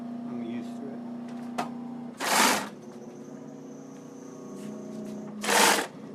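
The motor of a hat-making machine used for felt runs with a steady electric hum and whine, broken by two loud rushing bursts a few seconds apart.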